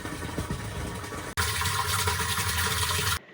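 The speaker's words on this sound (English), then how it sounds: "The pump pushes the water up, in through the pipe, fills up this tank." Water pumped up from a well rushes through a pipe into a tank at an off-grid home, a continuous loud gushing flow that briefly cuts out and resumes stronger before stopping abruptly.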